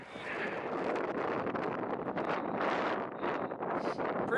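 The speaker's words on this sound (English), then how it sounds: "Pretty windy and cold." Wind roars steadily across a microphone on a cold, high trail near the San Juan mountains, a continuous loud buffeting rush with gusty swells throughout.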